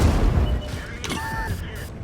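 A single cannon shot from an Astron Rex 105 mm tank in a video game battle on the Lost City map, a brief muffled boom partway through, heard under steady game noise and someone talking.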